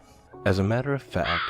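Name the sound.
crow calling from a tree branch outside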